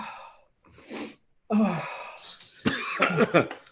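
A person coughs after eating a hot, fiery jelly bean, with a short burst of sharp coughs followed by a longer run of rough, breathy hacking, close and fairly loud.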